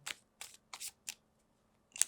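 Playing cards are handled in a series of short, crisp riffling swishes, four quick bursts followed by a final snap, quiet and close.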